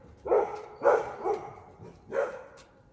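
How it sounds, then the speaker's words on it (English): A dog barks four times in an uneven rhythm, close by and fairly loud, with short pauses between barks and no voices. "I swear they bark at leaves"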